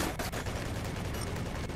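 Gunfire in the video game Call To Salt: rapid, dense bursts of shots that run continuously like a fusillade, fairly quiet in the mix and with no talk over it.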